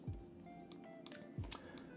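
Two quiet, isolated clicks of a key being pressed on a computer keyboard, about a second apart, in an otherwise still room.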